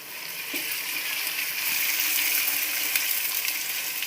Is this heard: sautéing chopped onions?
yes